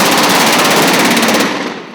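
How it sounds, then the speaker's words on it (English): Sailors fire their guns at something in a swamp during a film shoot, a dense, loud, sustained burst of rapid automatic gunfire that cuts off and fades after about a second and a half. "Today we're shooting a sequence where the sailors are having to shoot at something in the swamp"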